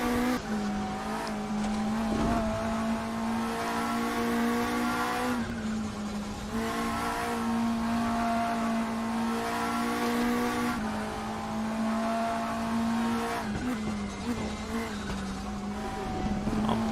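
An onboard race car engine roars through its final lap, holding a loud, steady pitch with brief dips and re-revs at gear changes and corners, alone without talk.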